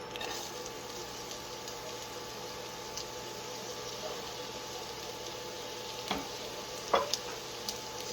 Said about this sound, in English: To this, we'll add some diced onion,